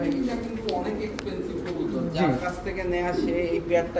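Pigeons of racer, Danish, Giribaz and fancy breeds coo repeatedly in close, overlapping calls at a pigeon market, with steady voices talking throughout.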